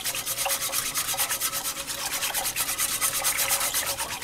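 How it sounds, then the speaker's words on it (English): A metal whisk beats pectin into a pot of blackberry jelly mixture, giving fast, steady scraping and swishing strokes in an even rhythm. The strokes are close and continuous, with no voices. "I'm going to put my pectin in and then just take my whisk, and I'm going to whisk all of this in"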